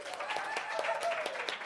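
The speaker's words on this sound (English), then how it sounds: "let's give him another round of applause." An audience claps at an open mic night, a short steady patter of applause with a voice talking over it.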